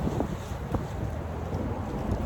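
Steady, rough wind buffeting a microphone outdoors, a continuous low rumble with no voices.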